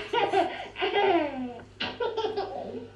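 A baby laughs in bursts of bright giggles and belly laughs, close and loud, with short pauses between fits.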